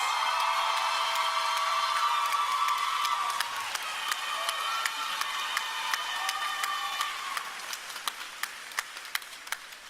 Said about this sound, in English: give yourself a healthy and hearty round of applause